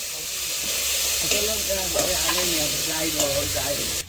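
Cumin, chili and potatoes frying in a pan, a loud, steady sizzle and hiss with occasional stirring scrapes, while a voice talks over it.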